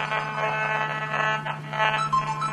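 An RF detector near a mobile phone reacts to the signal modulation with a steady electronic buzz. A pulsing warble rises and falls over it in short bursts, close and fairly loud, with no voices.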